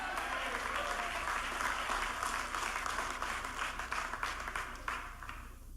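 A church congregation breaks into a steady round of applause, many hands clapping together at close range for several seconds without pause.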